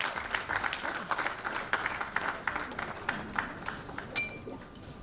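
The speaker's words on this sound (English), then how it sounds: "Let's put our hands together and give her a round of applause." Audience applause at a Sri Lankan women's awards gala, a steady wash of many hands clapping at moderate loudness for the full stretch, with a brief sharper clap near the end.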